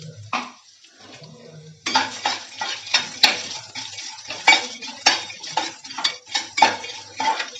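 Peanuts and cashews are stirred in hot oil in a metal pan for a temple-style puliyodharai, giving repeated close scraping and clinking strokes over a light sizzle, with no talk.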